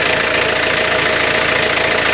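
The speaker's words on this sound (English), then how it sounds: "It's not a loud engine, it really isn't" A sailboat's inboard engine idles with no throttle, heard from the galley below deck as a steady, moderately loud mechanical rumble with a rapid knocking pulse, continuous and unbroken with no voices.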